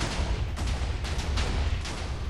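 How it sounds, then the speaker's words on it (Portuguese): TNT blocks exploding in the video game Minecraft, a dense, continuous roar of overlapping blasts with a heavy low rumble and repeated sharp bursts, loud and unbroken throughout. "Mano, não para de explodir."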